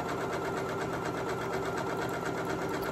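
A Janome Memory Craft MC9450 sewing machine runs a steady zigzag stitch, its even mechanical whir and rapid needle rhythm holding constant and close for the full stretch with no talking.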